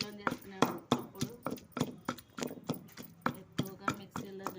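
A small stone mortar pounds and grinds green tomato chutney by hand, close up, with steady rhythmic thuds and scrapes recurring about every half second.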